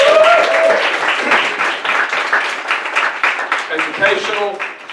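Comedy-club audience applauding a comedian as his set ends, steady broadband clapping for about five seconds with cheers and voices mixed through it.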